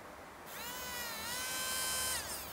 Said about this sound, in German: Der Motor dreht sich natürlich.